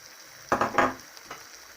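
Apple strudel filling of apples, nuts and raisins stirred in a frying pan: a couple of quick scraping, sizzling strokes close by, then a softer one, over a faint background hiss.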